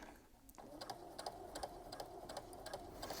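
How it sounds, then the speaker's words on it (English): A sewing machine runs a standard straight stitch while piecing fabric for a Thanksgiving turkey centerpiece, with a steady, fairly quiet, rapid ticking rhythm close by and brief pauses. "let me show you how I'm going to sew this one down. I'm using a standard straight stitch."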